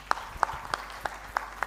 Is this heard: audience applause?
yes